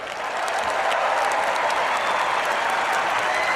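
An audience applauding Trump at a gathering, a dense, sustained wash of clapping from a large crowd that swells quickly and holds steady throughout.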